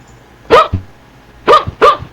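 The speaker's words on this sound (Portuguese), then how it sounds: "Cachorro." A dog barks three times, close and loud, with short sharp yaps spaced about a second apart in an otherwise quiet room.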